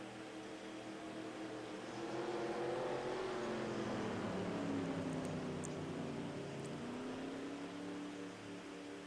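Race car engines in a racing video game at Laguna Seca drone steadily, with several overlapping engine tones rising and falling together through the whole stretch, loud and continuous with no talking.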